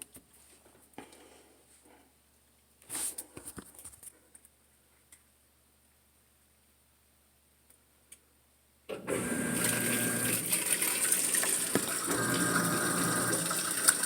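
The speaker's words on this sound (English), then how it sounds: "Here we go with a wash cycle." A GE GTW750CSLWS top-load washing machine washing jeans begins filling with water for its wash cycle: a few faint clicks and a brief mechanical burst, then a sudden loud, steady rush of water that continues to the end.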